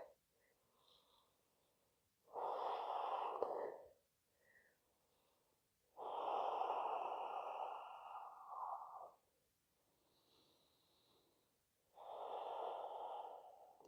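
Slow, deep breaths through the nose and long exhales during a yoga session, heard as three or four soft, airy swells separated by quiet pauses, close and alone.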